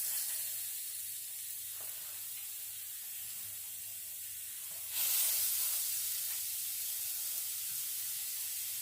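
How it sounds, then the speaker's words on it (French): Spiced chicken skewers sizzling in a very hot frying pan, a constant close hiss and crackle that swells louder partway through as more skewers hit the pan. "maintenant, je vais mettre mes brochettes dans ma poêle"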